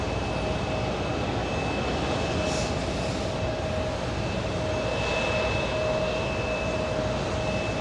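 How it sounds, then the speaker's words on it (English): An Airbus A330-300 from Paris Charles de Gaulle lands on runway 4 right at JFK: a continuous broad jet roar with a thin steady engine whine, constant and fairly loud for the whole stretch. "Let's see the A330-300 coming in from Charles de Gaulle today, Paris Charles de Gaulle."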